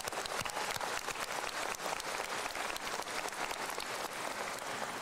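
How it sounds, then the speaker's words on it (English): A commencement crowd applauds in a thick, even wash of clapping that runs without a break, filling the hall at a moderate level with no voices over it. "One last round of applause."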